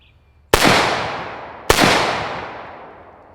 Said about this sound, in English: AK-74 unsuppressed.